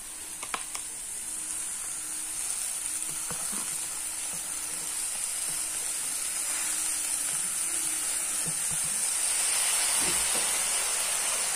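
Pipul greens going into a hot pan with spices, sizzling and frying with a steady bright hiss, plus a few scattered clicks and stirring knocks throughout, no voices.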